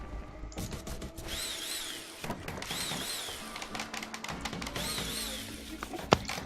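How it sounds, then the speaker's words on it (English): Whirring drill bursts and ratcheting mechanical clicks from the video game RimWorld repeat in short spurts, close and fairly quiet, ending with a sharp metallic ping. "I love all the random little power tool sounds."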